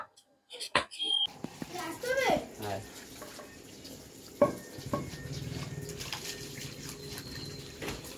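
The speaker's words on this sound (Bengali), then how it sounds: "খাওয়ার আগে পাতাগুলো ভালো মতো ধুয়ে নেওয়া হচ্ছে।" Leaves are washed by hand under running water, with splashing and rubbing bursts and a steady trickle, while voices murmur in the background.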